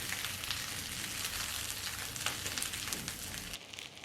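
Eggplant frying in a pan over medium to high flame, a faint, continuous crackling sizzle that runs evenly and fades out near the end, with no voices.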